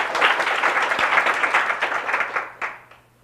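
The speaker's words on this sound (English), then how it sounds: "please give our panelists a warm round of applause" Warm applause from an audience for a panel discussion, brisk and full, then quickly dying away near the end.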